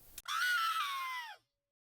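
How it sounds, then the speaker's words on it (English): A person screams from across the room to sound distant for a Halloween soundscape. A single sustained, high-pitched scream runs about a second, slides downward at the end, and cuts off into silence. "So I went across the room and then I screamed."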